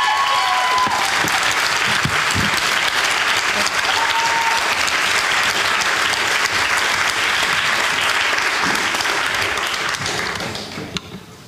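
A seated audience at an opening-night conversation event claps in sustained, dense applause that fills the room at steady loudness, tapering off near the end.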